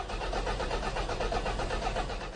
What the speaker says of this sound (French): Voilà, le véhicule ne s'allume pas.